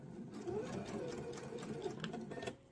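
A sewing machine stitches the seam of a fabric eyeglasses case, a steady continuous whirring hum running close and moderately loud from start to finish with no pauses.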